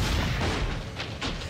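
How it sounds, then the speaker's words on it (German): A cannon fires in the video game Assassin's Creed: Brotherhood, a few muffled booms rising out of a dense rumbling battle din, fairly loud and without speech. "ich kann auch gar nicht weiter mit der Kanone hier, die hat so einen kleinen Radius."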